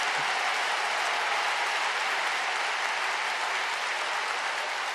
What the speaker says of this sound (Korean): 이때 박수를 치는 겁니다,